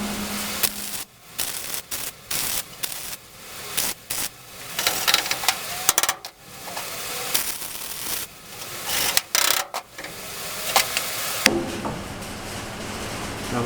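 Steel being welded in a garage: harsh crackling, buzzing bursts of several seconds each, broken by short silent gaps, close and fairly loud.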